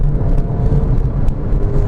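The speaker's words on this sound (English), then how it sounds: "you ring it out to the top end and it rips" A Porsche 911 Carrera GTS with a naturally aspirated boxer six engine revs toward the top end, a loud, close, steady engine roar.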